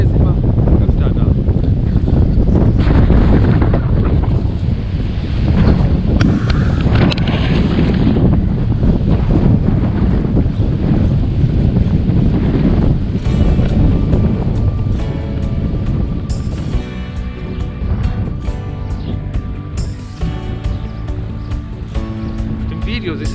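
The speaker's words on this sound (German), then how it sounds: "Es ist zwar immer noch super windig, aber ja, die Sonne ist immer öfter da." Strong wind roars against the microphone while cycling on a breezy, increasingly sunny day along a nature park bike route, a loud, continuous buffeting rumble that eases slightly in the second half.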